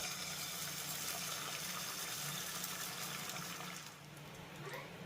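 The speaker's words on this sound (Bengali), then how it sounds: "তৈরি করে রাখা ডিমের মিশ্রণটা অল্প একটু পরিমাণে দিয়ে দেব" A beaten egg mixture pours into hot oil in a pan, giving a faint, continuous liquid rush and soft hiss that eases near the end.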